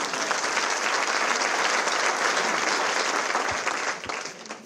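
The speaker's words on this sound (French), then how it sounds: "Est-ce qu'on peut l'applaudir ?" Audience applause at a comedy gala celebrating the Devos de l'humour, a dense, steady clapping from a full hall that holds loud throughout and begins to thin out near the end.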